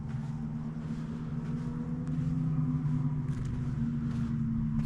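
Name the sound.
motorbikes heard across a Scottish loch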